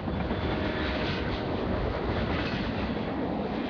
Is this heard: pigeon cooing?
no